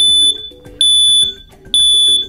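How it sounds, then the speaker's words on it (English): A USI SS-2895 hardwired photoelectric smoke alarm sounds its loud 85-decibel chirp: three piercing high beeps in a steady repeating rhythm, close and clear with no talking. "When an alarm is triggered, you'll hear a loud 85-decibel chirp to alert you."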